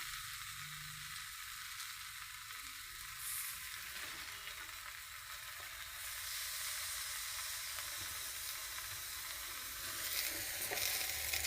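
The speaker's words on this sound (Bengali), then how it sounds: "বড়িগুলো দিয়ে দেবো কেটে রাখা পালং শাকগুলোও দিয়ে দেবো" Chopped spinach and lentil dumplings fry in a pan with a steady, close hissing sizzle that holds evenly throughout and swells slightly near the end, with no talking.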